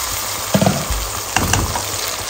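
Red lentils tipped into a pan of frying onion and garlic, two bursts of louder hissing and clattering stir over a steady low sizzle, close and without speech.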